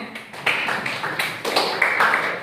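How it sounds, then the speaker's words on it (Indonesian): A short burst of clapping from a small group, uneven and moderately loud, with a few claps standing out near the start. "Oke, silakan tepuk tangan."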